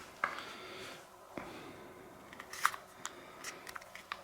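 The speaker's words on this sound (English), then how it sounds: "You can hear it's a positive click when it springs down." Small mechanical clicks from a spring-loaded mechanism snapping down on a model Gulf Track Mini tracked vehicle, a few sharp close clicks spaced over a quiet, faintly noisy room.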